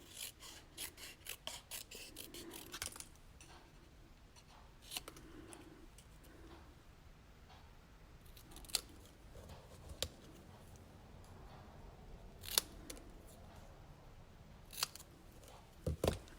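Scissors snip paper letters for a handmade card in a quiet room, a series of soft, close crisp cuts and rasping slides with short pauses between them.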